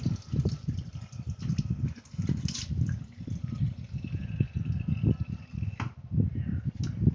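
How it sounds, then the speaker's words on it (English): Water runs steadily from a tap into a sink, a close, continuous splashing gush with no talking. "So you're going to hear the water running"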